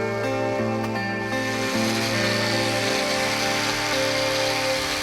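A power sander flattening a wood slab: a steady drone with a low motor hum and shifting pitch, running continuously and close by with no talking.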